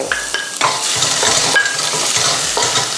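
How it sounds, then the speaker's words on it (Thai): Garlic fries in hot oil for garlic-fried mushrooms with a loud, dense, continuous sizzle, broken by repeated scraping and stirring strokes of a utensil in the pan. "ตัวกระเทียมมันขึ้นฟูๆเนี่ยถือว่าน้ำมันมันร้อนได้ที่แล้วค่ะ ก็ ใส่กระเทียมทั้งหมดลงไป"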